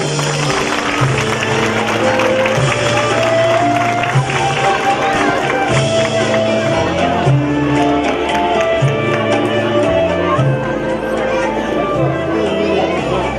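An audience at a Quran course graduation ceremony claps steadily for children receiving their gifts, with dense, continuous applause blended with loud music and crowd chatter throughout.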